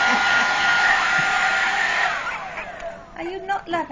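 A handheld hair dryer blows with a loud, steady airy roar that winds down after a couple of seconds, its whine falling in pitch as voices start speaking nearby.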